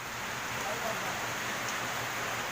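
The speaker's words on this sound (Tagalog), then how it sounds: "bumaha na naman kasi malakas yung ulan" Steady, dense hiss of heavy rain pours down continuously during flooding, an even wash of sound with no pauses.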